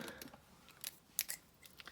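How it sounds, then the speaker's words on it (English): Scissors snip through paper while cutting out a card piece, a few crisp close snips spread across a quiet moment with no talking. "now I'll use my scissors, which are here"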